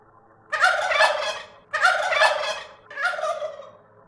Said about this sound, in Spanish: Y el glugluteo de un guajolote.